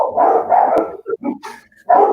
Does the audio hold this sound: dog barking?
yes